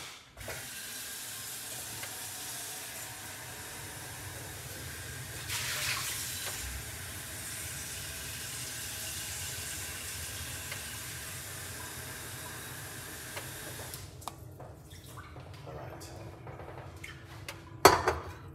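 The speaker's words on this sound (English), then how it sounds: "So let's get some water." Tap water pouring steadily into a cup for making pineapple tea, a continuous close hiss and splash lasting most of the stretch before cutting off near the end with a few clinks.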